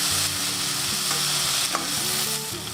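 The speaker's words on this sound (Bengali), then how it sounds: "এখন আমি প্যানকেকটা উল্টিয়ে দেব। খুব আলতোভাবে উল্টিয়ে দিতে হবে" A semolina and vegetable pancake sizzles steadily in an oiled pan just after being flipped, a loud, continuous close-up frying hiss with no voices.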